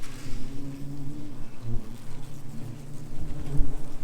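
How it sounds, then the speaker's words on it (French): Asian hornets buzz angrily around their nest, a dense, steady insect drone that holds close and continuous for the whole stretch with no voices over it. "frelon bien vénère"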